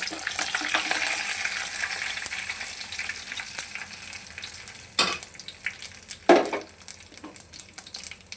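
Mustard and cumin seeds spluttering in hot oil: a steady, close sizzling hiss with crackles throughout and a couple of sharper pops or stirring clatters near the end.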